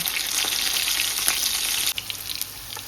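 Pieces of fish deep-frying in oil for a beach-restaurant-style fish salad, a dense steady crackling sizzle close by, with a brief dip and a few sharper pops near the end.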